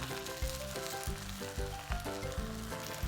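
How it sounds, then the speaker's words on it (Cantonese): Garlic and ginger slices sizzle in a hot wok, a steady hiss and crackle heard quietly alongside background music. "加幾片薑落起鑊，將啲蒜頭放埋落去爆一爆佢"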